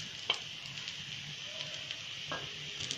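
A mixed-flour dhapate flatbread fries in oil on a pan, producing a constant gentle sizzle and faint crackle, close and even throughout, with no speech.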